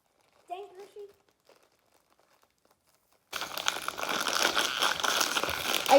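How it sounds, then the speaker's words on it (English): A crinkly plastic bag of Hershey chocolate chips being pulled and wrestled open, loud continuous rustling and crackling close up that follows a few spoken words and a stretch of near silence. "we are taking chocolate chips and we are trying to open them"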